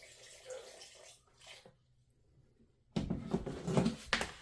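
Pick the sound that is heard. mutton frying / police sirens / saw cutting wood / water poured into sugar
water poured into sugar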